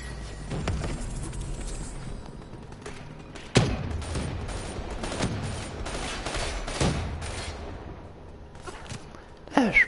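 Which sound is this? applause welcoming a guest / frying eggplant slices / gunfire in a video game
gunfire in a video game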